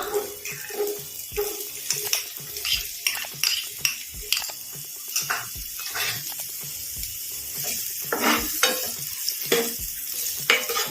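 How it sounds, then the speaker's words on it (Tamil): Onions sizzling and frying in oil in a pan with frequent stirring scrapes, a steady crackling hiss throughout with no talking. "இரண்டு நிமிடம் வெங்காயத்தை நல்லா வதக்கணும்"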